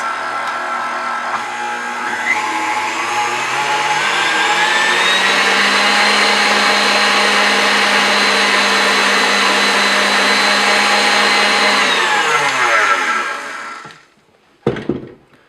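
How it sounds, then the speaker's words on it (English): Stand mixer whipping cream with icing sugar: a motor spins up over a couple of seconds into a loud, steady whirring whine with rising pitch, holds for about ten seconds, then winds down, followed by a brief clunk. "It's incredibly simple to make whipping cream using a stand mixer."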